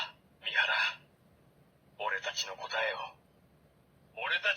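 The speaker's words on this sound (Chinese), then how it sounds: "指定3个按键加上呼叫键就是一个台词音效" A bootleg Kamen Rider 555 Faiz Phone toy plays its voice-line sound effects: three short bursts of tinny, speaker-filtered recorded speech, close and fairly clear, separated by quiet pauses.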